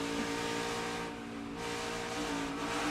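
NASCAR Xfinity Series stock cars racing at Dover, engines droning loudly and steadily, with a brief dip in the roar around the middle as one car lifts off the throttle.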